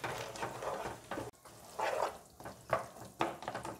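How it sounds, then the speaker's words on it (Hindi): Peanuts are stirred into melted sugar in a pan while making chikki, giving scraping, gritty stirring strokes in uneven bursts with a light sizzle beneath, close and moderately loud with no talking. "और इसे अच्छे से मिलाएंगे।"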